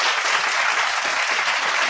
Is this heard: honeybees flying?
no